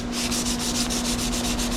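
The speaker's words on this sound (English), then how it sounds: "Now I'm going to do a little bit of wet sanding to smooth that out a bit." Wet sanding of primer by hand without a block on the body of a Pontiac LeMans, a close, steady rhythmic rubbing with even back-and-forth strokes and a constant hum underneath, with no talk.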